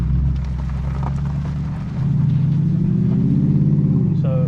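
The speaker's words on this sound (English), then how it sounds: "just do a few little accelerations and just show you the sound that this car makes" BMW 650i accelerates on back roads, a deep engine rumble rising in pitch as the revs climb, close and loud, with faint rattles from the car.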